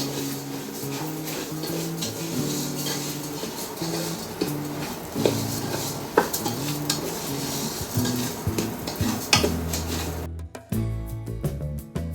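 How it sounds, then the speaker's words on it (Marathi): Semolina dry-roasted in a pan, the spoon clattering and scraping against the metal in a busy, continuous rhythm, near and fairly loud throughout. "आता मी हा रवा भाजून घेते."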